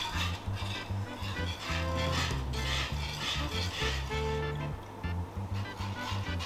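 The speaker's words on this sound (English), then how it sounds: "now we're going to add the milk gradually. A little bit at a time will give you a lovely creamy texture. Just gonna start with a whisk." Milk is whisked little by little into a creamy moussaka sauce in a pan, a continuous close swishing and liquid stirring over a low steady background hum.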